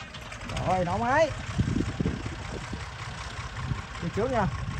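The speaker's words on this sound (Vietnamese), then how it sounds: "Rồi nổ máy." A vehicle engine in a driving video game starts and idles with turbo. It revs in short rising and falling sweeps over a steady mechanical hum, with two rev bursts near the start and another near the end.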